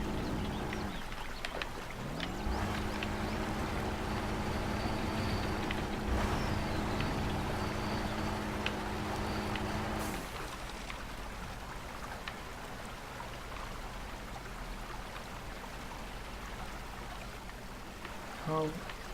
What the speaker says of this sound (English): This electric motor allows the driver of the vehicle to pull themselves out of a sticky situation, like I am doing currently.